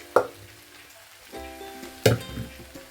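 Chickpeas and rice frying in a pan, a soft sizzle broken by a few sharp clanks and scrapes of a spoon stirring against the metal, close and alone.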